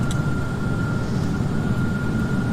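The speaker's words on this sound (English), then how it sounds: "I only hear the plane" Steady low-frequency roar of a Boeing 737-900ER airliner in a flight simulator, a continuous engine and airflow drone with a faint high tone, holding constant throughout with no talking.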